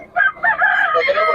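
A rooster crows once, loud and close, a single drawn-out call at a roadside chicken market in Bocaue.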